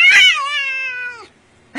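A cat gives one loud, close, drawn-out meow that falls in pitch and fades, followed by a brief start of another cry.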